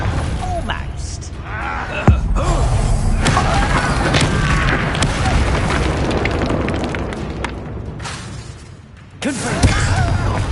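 Bombarda and Confringo explosion spells cast in Hogwarts Legacy, sharp booming blasts with mechanical crackle, one strong hit near two seconds and another near nine, amid dense combat noise and a voice calling out incantations.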